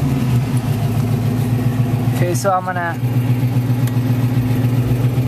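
A 1968 Mercury Cougar's engine cranks and fires, a brief whining starter burst cutting through a loud, steady rumbling idle, with someone talking over it at the start.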